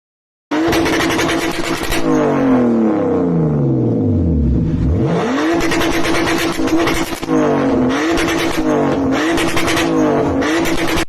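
A BMW with a tuned MS43 engine computer revs hard against its rev limiter, the engine note rising and falling sharply with repeated pops and bangs, loud and close throughout with no talking.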